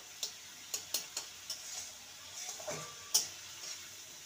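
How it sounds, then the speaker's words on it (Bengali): Spice masala stirred and fried in oil in a pan: soft, scattered scraping taps and light clinks from a utensil over a quiet sizzle, close and faint, with no talk. "এবার ভালো করে আবারও মশলাটাকে কষিয়ে নিতে হবে যতক্ষণ না মশলা থেকে তেল রিডিউস হয়।"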